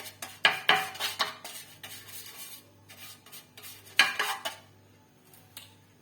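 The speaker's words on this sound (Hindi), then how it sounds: "सबसे पहले पिज्जा ट्रे को आप अच्छी तरह से ऑयल से ग्रीस कर लें।" Oil is spread over a metal pizza tray for mini bakery-style pizzas, giving close, uneven metallic clinks and scrapes in two clusters with quieter rubbing between.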